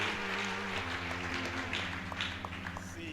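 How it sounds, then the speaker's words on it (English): A church congregation clapping hands for the pastors, scattered applause over a sustained tonal hum of music or organ, moderately faint and mixed. "clap hands for them?"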